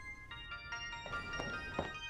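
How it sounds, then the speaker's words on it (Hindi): A mobile phone rings with a melodic ringtone, a series of short repeated tones, fairly faint and indoors, with no one speaking over it. "आपका मोबाइल बज रहा है।"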